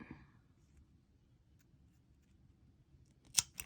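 Scissors snip through string while making loops for a volunteer craft project, a couple of close, crisp cuts near the end after a quiet stretch.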